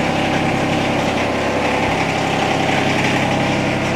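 A tractor engine runs at a steady, close, rumbling idle, working a hydraulic top link cylinder, with a constant vibrating drone throughout and no breaks.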